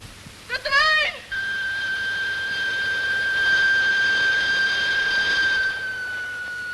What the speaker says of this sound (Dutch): De signalen! Horen jullie dat niet? De trein!